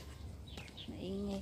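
Birds chirp and coo faintly amid outdoor background noise on an evening hike, with a brief tonal call and a short whistled phrase.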